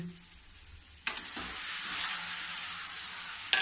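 Eggplant, potato and tomato drop into a pan of frying onion for chokha; after a quiet start a sudden loud sizzle erupts and holds as a steady hiss, ending with a brief scrape.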